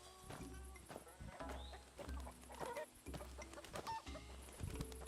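A chicken clucks in the video game Where Winds Meet, short clucks scattered among game sounds and faint background noise, fairly quiet overall.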